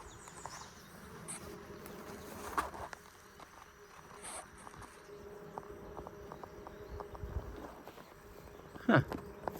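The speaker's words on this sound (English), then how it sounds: "that was a bee fighting off a bee from another colony" Honeybees buzz around a beehive, a faint, fluctuating hum with close individual bees passing, one louder buzz near the end.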